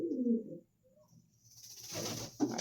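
A golden female pigeon gives one short, low coo up close, followed by a pause and then a burst of rustling, hissy noise.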